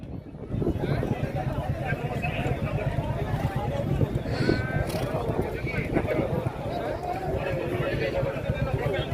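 A horse at a bullock cart race runs with rapid, steady hoof beats under continuous crowd chatter and shouting voices.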